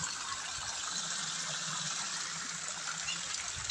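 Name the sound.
pond water pump motor gushing water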